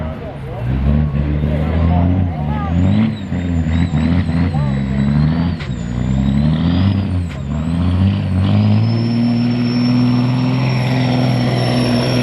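A 1998 Kenworth W900L semi truck engine rumbles at a truck pull, its deep revving drone rising and settling, then holding a steady high roar, with an announcer talking over it.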